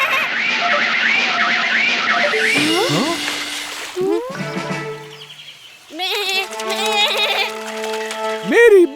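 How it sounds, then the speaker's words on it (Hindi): A cartoon goat bleats in quavering cries over a lively background score, accompanied by splashy boings and other comic sound effects in a Hindi kids' animation. "मेरी बकरी।"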